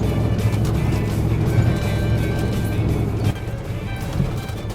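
A bullnose truck rumbles steadily off-road onto gravel, its low engine drone and tire crunch continuous and close, with wind buffeting throughout.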